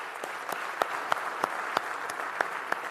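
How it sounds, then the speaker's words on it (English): An audience at a Pitch at Palace entrepreneur pitching event in Sheffield claps steadily, with a dense wash of hands and a few sharp, louder claps standing out at regular intervals. "I think they all deserve one last round of applause for their efforts."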